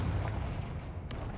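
A Confringo fire spell cast in Hogwarts Legacy bursts as a low, rumbling blast that fills the short moment, followed by a brief sharp crack near the end, with no talking.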